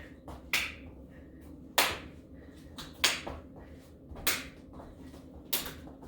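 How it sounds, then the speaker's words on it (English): Hand claps during a dumbbell workout, five sharp single claps spaced roughly every second and a quarter, fairly faint, with quiet background between them and no talking. "Can you clap in the center?"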